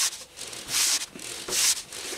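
Wavy front brake disc on a Triumph Tiger 800 rubbing against the caliper as the wheel is spun by hand, giving a close, dry scraping that swells twice to louder sweeps, with no voices.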